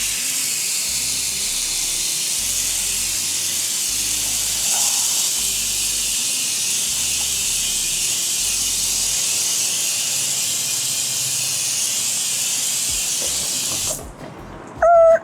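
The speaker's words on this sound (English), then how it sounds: "Now, I'm gonna rinse it off and let's see my results." A hose or pressure sprayer rinses a freshly scrubbed car wheel and tire, producing a loud, steady hiss of water spray that runs for most of the clip before cutting off near the end.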